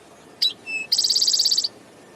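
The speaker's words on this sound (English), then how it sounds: "the mnemonic for the call of the eastern towhee, a common residential bird in our area, is "Drink your tee-hee-hee, listen here."" An eastern towhee calls alone and close: a sharp pair of notes, a brief whistled tone, then a fast rapid trill lasting under a second, over quiet background.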